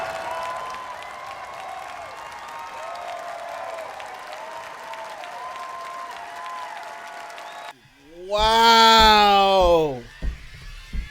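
An audience applauds the great maestro John Williams with sustained, even clapping for several seconds, then a loud voice cuts in over a brief quiet gap.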